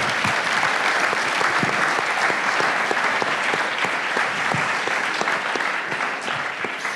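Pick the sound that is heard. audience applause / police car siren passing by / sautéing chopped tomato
audience applause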